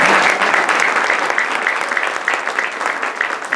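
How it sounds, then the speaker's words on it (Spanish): Audience applause for the mayor at a Women's Day commemoration, a dense steady wash of many hands clapping, loud and sustained throughout without letting up. "vamos a darle un aplauso a nuestro alcalde."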